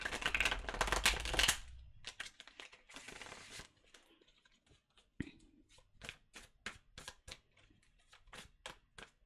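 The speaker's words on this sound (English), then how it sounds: "One more shuffle for Scorpio." Tarot cards shuffled by hand in several bursts, a dense riffling flurry at first, then lighter rapid flicks and taps, close and fairly quiet, with no talking.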